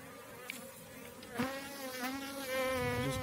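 A swarm of aggressive bees under a wendy house makes a continuous, close buzzing drone that swells louder toward the end, with no voices over it.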